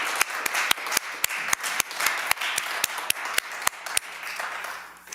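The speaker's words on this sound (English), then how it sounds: "can we have a round of applause for a great presentation?" A modest round of applause after a talk at a Sunday Forum, with a few distinct sharp claps standing out over a soft spread of clapping that fades toward the end.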